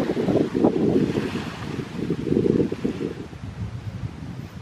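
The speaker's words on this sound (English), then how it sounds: "It's very windy. I apologize for wind sounds." Strong gusts buffet the microphone on a park boardwalk by a grassy marsh, a loud continuous low rumble with surging bursts and no talking.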